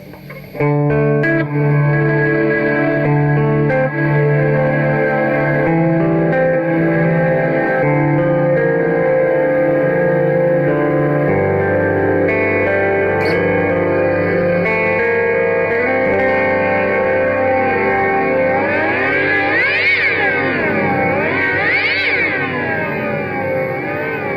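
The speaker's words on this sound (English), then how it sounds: "gives you a bit more of a resonator sound, so you can hear the signal breaking up like this." Sustained electric guitar notes ring through a heavy resonator effect, the tone buzzing and breaking up, with warbling, wobbling pitch swells toward the end.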